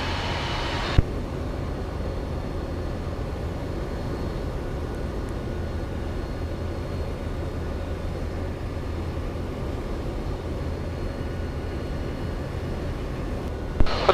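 A steady, droning engine of a Eurofox tailwheel light aircraft heard from inside the cockpit, a continuous loud rumble holding level throughout with no talk.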